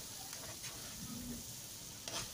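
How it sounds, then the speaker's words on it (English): Ingredients for Nigerian native jollof rice frying in a pot, a faint, steady sizzle with a few soft stirring scrapes. "so I just have to fry this"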